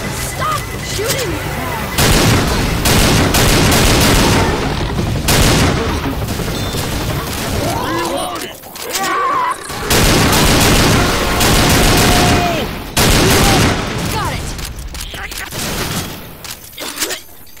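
Loud, heavy bursts of gunfire from the video game Left 4 Dead 2 come in repeated sustained volleys separated by short lulls, with shouted voices between them.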